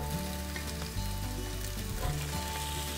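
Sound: onion and cherry tomatoes frying in a pan

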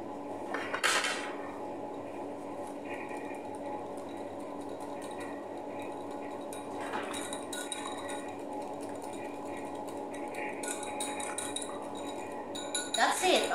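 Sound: mixing thyme salad ingredients in a bowl

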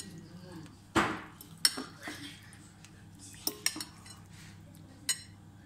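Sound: stirring vegetables with wild garlic in a pot

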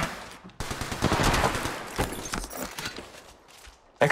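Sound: gunfire in a video game shooter

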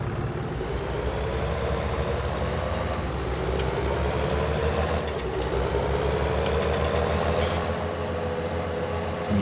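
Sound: tractor gear shift sound mod in Farming Simulator 19 video game

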